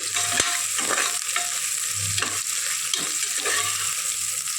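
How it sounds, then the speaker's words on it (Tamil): Onions sautéing in a pan for chicken biryani hiss steadily up close, with repeated scraping strokes of a stirring spoon and a few knocks against the pan. "வெங்காயம் நல்லா ப்ரௌன் வதங்கிட்டு"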